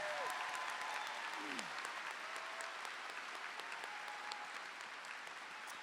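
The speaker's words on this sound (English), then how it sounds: "If we can please give these students a round of applause for their accomplishments" Sustained applause from a crowd at a high school commencement for the graduating class, steady and moderately distant, lasting throughout without a break, with faint whistles or cheers mixed in.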